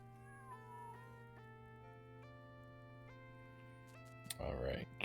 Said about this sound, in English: cat trapped in the room